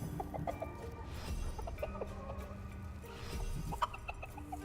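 Chickens cluck and fuss in a room of the video game Dungeons 4, several short clucks and calls scattered irregularly over a quiet background.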